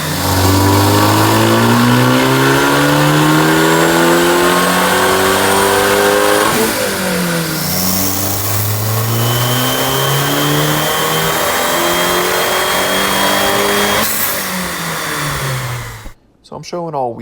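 A car with a multi-air engine, a front-mounted intercooler and a fenderwell intake runs on a dyno, revving up in long rising pulls that climb and drop off loud and close before cutting out near the end.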